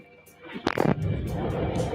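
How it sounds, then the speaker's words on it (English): A sudden blast bursts out close to a bunker after a quiet moment, followed by a lingering rumbling roar and debris-like noise. "You can hear the explosions outside of the bunker there and how close they are to him."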